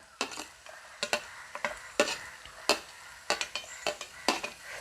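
Chopped onion stirs in a little hot oil in a pan, giving a soft sizzle broken by repeated crisp scraping strokes and clinks of a spoon against the pan, close up and alone without speech.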